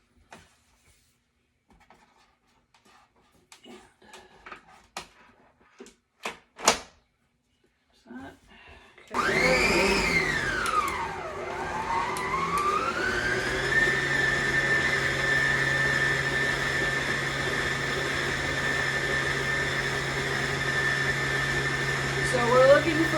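A stand mixer with a splatter guard fitted whirs to life and churns sugar cookie dough, a loud steady motor drone that dips briefly in pitch as it settles, preceded by scattered clatter and handling noises nearby.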